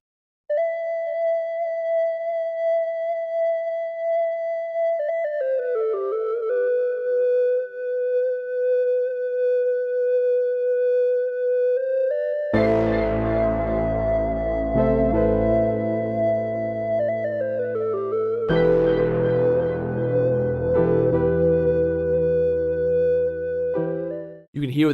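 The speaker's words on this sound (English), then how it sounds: "You can hear what that distortion is doing, giving it more bite, making it cut through more. It just makes that lead sound so much more powerful." A distorted synth lead from the HEIR Acid Synth preset plays a sustained, gliding melody with bright, biting harmonics, thickening midway as a fuller layered part with heavy low end comes in, loud and alone without talk.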